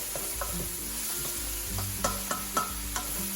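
Button mushrooms sautéing in a pan, a steady close-up sizzle with small pops and a few sharper spatula clicks and stirs toward the end.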